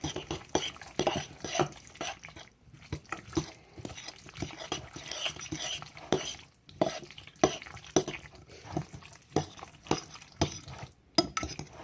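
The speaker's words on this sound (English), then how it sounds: "And then you're going to mix it all together." Ingredients for pork chops stirred and mixed in a bowl, a steady run of scraping, clinking utensil strokes close by.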